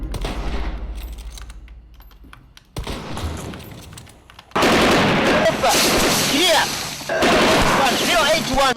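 Bursts of gunfire trade back and forth in Apex Legends, quieter at first, then a loud sustained volley from about halfway with a brief lull, talk faintly mixed in.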